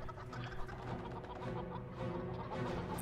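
Soft clucking of many chickens in the video game Family Guy fills the background in a continuous, busy murmur, fairly quiet and without speech.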